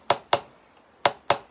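Metal hammer strikes on jewellery metal during texturing, four sharp bright ringing taps in two pairs separated by a short pause, close and clear with no other sound.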